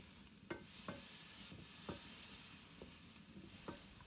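Onion, red pepper and chives sizzle steadily in a pan while a spoon stirs them, with several soft separate scrapes and knocks over the constant frying hiss and no voices.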